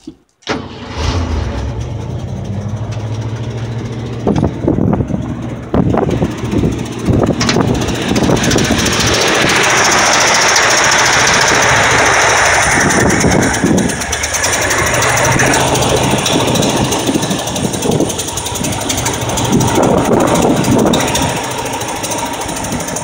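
A 1978 Ford F150 engine idles steadily and close by with its fuel pump hooked up, a continuous mid-pitched rumble with faint rattles and ticks running through it.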